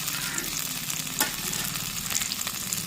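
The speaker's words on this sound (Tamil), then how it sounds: "தக்காளி வெள்ளைப்பொடியும் கொஞ்சம் நேரம் எண்ணெயில் வதங்கி வரட்டும்" Tomato and garlic sauté in hot oil with a steady, close sizzle and occasional soft stirring scrapes, no voices.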